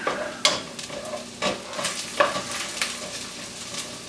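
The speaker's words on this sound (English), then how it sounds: "let me get to sauteing these onions" Onions sauté in a pan, a soft steady sizzle broken by a few sharp stirring scrapes at irregular intervals, close and alone without talk.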